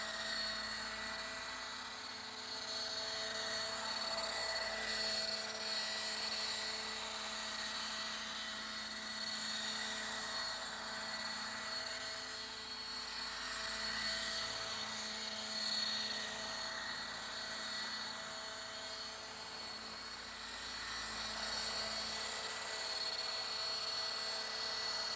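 A Roban EC130 800-size scale RC helicopter in flight with its rotor head at about 1100 RPM, giving a steady whine and rotor drone that swells and fades slightly as it moves, with no talk.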